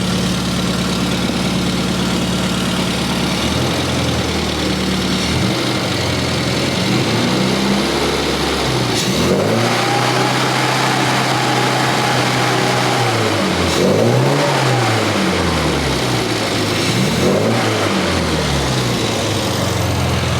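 Engine fitted with an SU carburettor, no load, idling loudly and then revved several times, each rise and fall in pitch clear and close, settling back to idle between blips.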